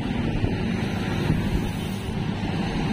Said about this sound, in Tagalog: Lakas ang hangin papunta rito.